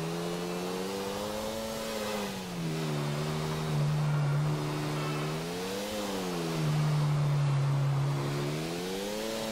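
Motorcycle engine in the GTA 4 video game, a steady mid-pitched drone with smooth revving that rises and falls several times, loud and continuous with no talking.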